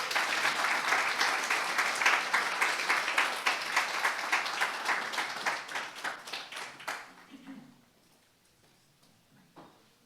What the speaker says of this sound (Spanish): Denle un aplauso al Señor nuevamente.